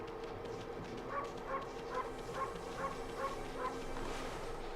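Barking in the Okami video game: a quiet, evenly spaced series of about eight short barks, one every half second or so, over a soft background bed.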